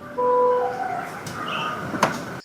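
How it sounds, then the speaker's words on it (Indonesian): The powered rear door of a GMC Hummer EV closes on its own, with a steady motor whine that shifts in pitch as the door moves and then a soft latching click near the end. "untuk menutup pintu belakang kembali, kita hanya cukup tekan tombol yang untuk membuka 2 detik, maka pintu akan tertutup kembali"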